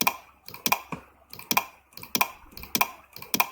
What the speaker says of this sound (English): then press and hold Control on the keyboard.